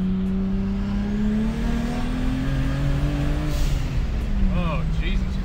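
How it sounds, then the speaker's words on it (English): A 1000 hp Lexus IS300 engine at full boost around 3,500 RPM, roaring loud and steady with rising engine tones, tires spinning under the strain, while someone talks over it. "that's fucking full boost and tire spin"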